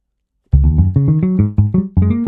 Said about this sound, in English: Fretless bass sound like this.